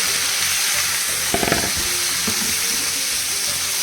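Garlic chicken fries in a hot pan with a dense, steady sizzle throughout, broken near the middle by a few brief clattering stirs.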